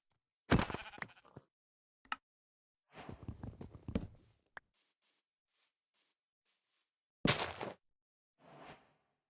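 Sheep in Minecraft bleat in several separate short calls, close and clear, with quiet game footsteps and small clicks in between.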